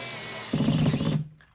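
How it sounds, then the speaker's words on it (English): A power driver sends a snap-off screw through carpet into the subfloor to fix a squeaky floor, making one short, close whirring burst that starts abruptly and cuts off after under a second. "You screw it down as far as it will go until this starts slipping."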